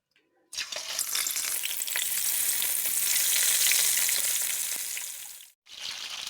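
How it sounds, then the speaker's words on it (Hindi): Chicken pieces frying in hot mustard oil in a pan for Kashmiri methi chicken give a loud, steady sizzle that swells and then cuts off briefly near the end before resuming, with no voices. "और अब इसमें मैं चिकन फ्राई करूंगी।"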